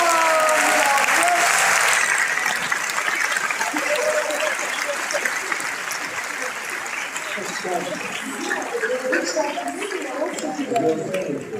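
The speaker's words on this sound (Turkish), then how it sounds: "Kocaman alkışlarla yılın Mimar Sinan'ı Fulya Öztürk" Audience at an award night applauds an honoree, loud sustained clapping that gradually thins, with people talking and chatter rising through it.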